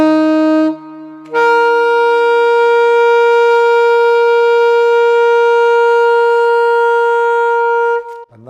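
A saxophone plays a sustained high G: a brief lower note, a short gap, then one steady, loud, pure tone held for about seven seconds, alone.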